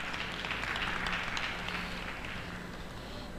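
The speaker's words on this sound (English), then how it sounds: "Another round of applause for her, please." Audience applause at a Social Media Week Lagos panel event: a steady, dense wash of clapping that holds at an even level for the whole stretch, with no voices over it.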